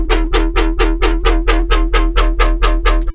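A drum and bass synth patch pulses in a steady, loud rhythm of about ten repeated hits over a deep sustained bass, its bright filtered tone opening and closing on each pulse as the cutoff is swept.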